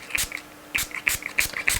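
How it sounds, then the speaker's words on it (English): Short bursts from a spray bottle misting over freshly poured melt-and-pour soap, about five quick hissing spritzes with mechanical clicks, close and crisp. "We go ahead and spray."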